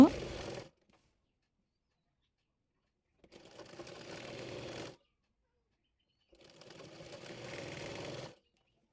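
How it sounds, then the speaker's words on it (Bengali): A sewing machine stitches palazzo fabric in three separate runs, a steady close whirring hum lasting a second or two each time, with quiet gaps between. "সেলাই করার পাশটি রেখে সেলাই করে একেবারে কলি পর্যন্ত সেলাই করে নেব"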